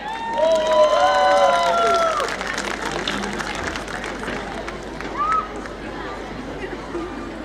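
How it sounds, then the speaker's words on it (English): An audience of parents applauds and cheers at a school annual day, loud dense clapping with whoops and whistles early on, easing slightly while crowd chatter continues beneath. "Parents, cheer them up with a loud round of applause."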